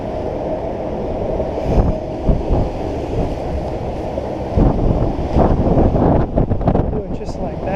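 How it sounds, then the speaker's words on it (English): Strong gusty wind buffeting the microphone on the water while catfish fishing, loud rumbling bursts that rise and fall, with someone talking over it. "See, guys, with the wind here, it is crazy windy today."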